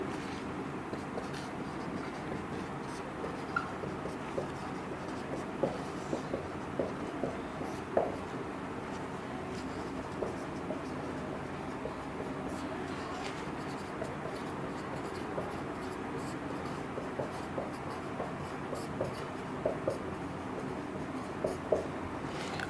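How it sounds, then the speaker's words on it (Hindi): Pen or chalk writing by hand during a maths lesson, a steady soft scratching with small taps, continuing quietly for the whole stretch with no talk over it. "तो मैं यहां पे लिख देता हूं"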